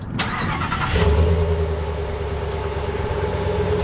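A 2020 Ram 1500 pickup's naturally aspirated 5.7-liter Hemi V8, started by remote, cranks and catches, then settles into a deep, steady rumbling idle, loud and close, with no voices.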